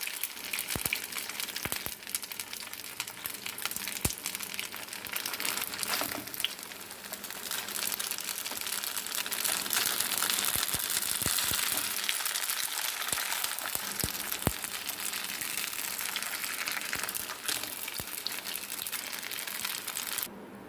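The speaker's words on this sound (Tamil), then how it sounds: "இப்போ நம்ம இதே மாதிரி நம்ம வச்சுருக்க எல்லா ரோல்ஸையுமே ஃப்ரை பண்ணி எடுத்துக்கலாம்" Vegetable spring rolls sizzle in a shallow pan with only a little oil, giving a steady, fairly close crackle and hiss with scattered pops that runs for about twenty seconds without talking.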